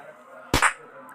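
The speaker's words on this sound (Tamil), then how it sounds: "இப்போ பாருங்கள், இந்த மிளகா வெடியை நம்ம வெடிக்க போகிறோம்." A chili firecracker goes off in a fireworks video game: one sharp, loud crack with a short burst of debris noise, lasting well under half a second against a quiet background.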